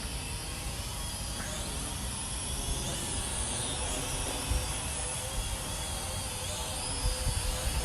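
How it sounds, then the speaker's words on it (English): Cheap Uranhub UH400 drone flying outdoors in high wind, a steady buzzing whine of small motors mixed with blustery wind rumble and gusts, moderately loud and continuous. "Yeah, not a bad little cheap little drone"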